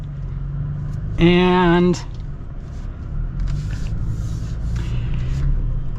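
A 2022 Toyota Tacoma TRD Pro in four-wheel low crawls onto a rock off-road, a low, steady engine rumble running under nearby talking.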